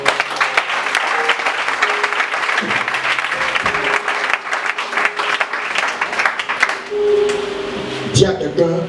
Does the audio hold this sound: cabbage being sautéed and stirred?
no